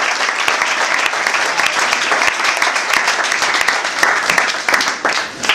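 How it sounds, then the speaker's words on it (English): An audience claps steadily at a school competition, dense applause sustained for several seconds at close range, with faint voices mixed in. "Can we clap hands for him?"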